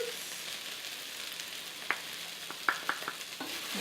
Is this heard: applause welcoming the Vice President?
no